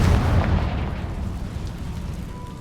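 A Confringo blasting spell in Hogwarts Legacy bursts with a loud, deep boom that fades into a rumbling decay over a couple of seconds, with no voices.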